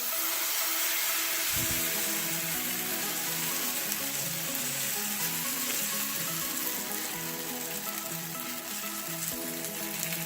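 Okonomiyaki batter sizzling in a hot pan, a steady loud crackling fry with a fresh spoonful dropped in early on, continuing without talk.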